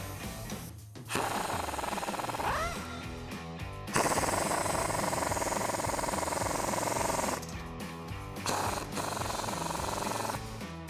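Impact wrench driving a 19mm socket onto suspension bolts of a 2021-2024 Bronco during a lift kit install, loud rapid hammering bursts with brief pauses between them.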